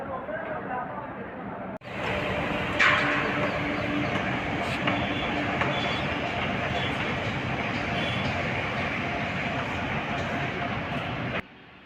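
Auroville Express train standing at the Chennai station ahead of its run to Pondicherry, with a loud steady rumble and hum, a sharp clank near the start, and faint talk underneath.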